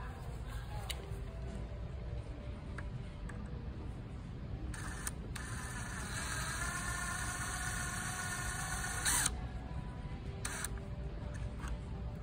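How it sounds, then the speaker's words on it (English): A power screwdriver whirs in two short bursts while tightening a screw on a cellular shade clutch, close and fairly quiet against a low background hum. "So let me start by tightening that one down."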